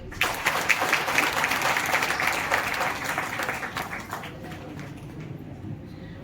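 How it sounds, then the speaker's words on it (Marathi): Dense applause from an audience at an award ceremony in Nagpur, loud at first and then gradually fading away over several seconds. "टाळ्या"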